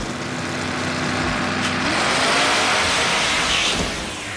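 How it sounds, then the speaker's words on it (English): A drag race between a plum purple Dodge Charger and a gold Ford Mustang, engines roaring past in a loud, broad rush that swells to a peak mid-clip and then fades slightly, with no speech. "Larry Fish in that plum purple Dodge Charger taking on Clay 131 in his shiny gold Mustang"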